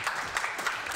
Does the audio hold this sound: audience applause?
yes